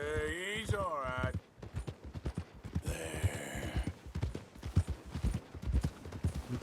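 Horse hooves clip-clopping in Red Dead Redemption 2, a steady trotting rhythm under continuous talk and game dialogue throughout, with a brief whinny-like tonal sound at the start.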